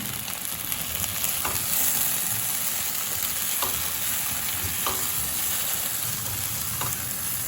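Green tomato and brinjal with turmeric fry in a little oil in a pan, giving a continuous loud sizzle with a few light stirring knocks spaced a second or so apart and no talk.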